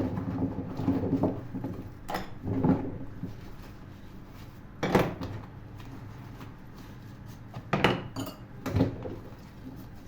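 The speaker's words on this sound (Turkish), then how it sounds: "Sade bulaşını akıtıyorum ben şimdi bunun." Dirty dishes knock and clink at a kitchen sink in scattered bursts over a steady wash of running water as they are rinsed, close by.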